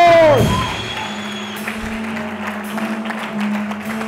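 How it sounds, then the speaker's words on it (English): Conference audience at a leadership event applauding: a soft, diffuse wash of clapping from a hall crowd that follows a brief descending electronic tone at the start, with a low steady hum underneath. "Please give yourself a warm round of applause."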